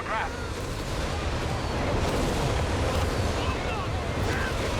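Nebelwerfer rocket artillery barrage in Company of Heroes 3, a dense continuous roar of explosions and rumbling blasts that fills the whole stretch, with a voice commentating over it.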